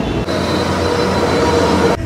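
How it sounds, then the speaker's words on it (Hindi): A Delhi Metro train pulls into a station platform with a loud, steady rumble and broad rushing roar that holds for about two seconds, with no talk over it. "मेट्रो का वेट करें इतनी गर्मी है ना आ गई यार मेट्रो"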